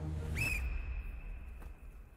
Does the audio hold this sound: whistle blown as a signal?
yes